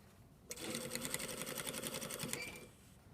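Sewing machine stitching a shirt collar onto the neckline, one quiet close run of rapid rhythmic needle chatter lasting about two seconds, then stopping.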